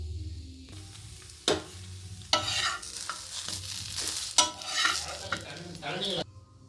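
Nellore kara dosa sizzles on a hot pan, with soft crackling frying and a few sharper bursts of scraping as the batter is stirred and turned, close and fairly quiet.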